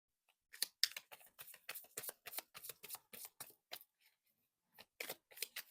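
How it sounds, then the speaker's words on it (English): A deck of tarot cards is shuffled by hand in quick, crisp riffles and slaps, close and fairly quiet, in several short bursts separated by a brief pause. "I am shuffling, okay?"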